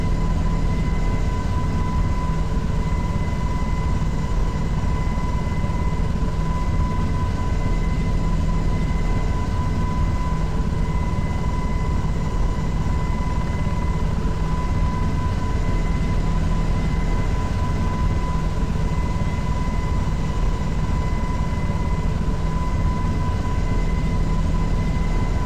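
A helicopter descends in a flight-simulation video game, giving a loud, steady, unbroken drone of engine and rotor with constant tonal whine over the whole stretch. No voices are heard.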